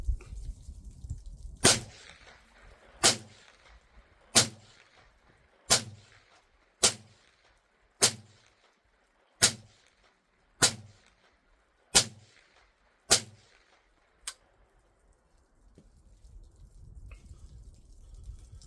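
Eleven rimfire rifle shots fire Mini-Mag ammunition one by one at a slow, even pace outdoors, with sharp, loud cracks roughly a second apart and quiet gaps between them.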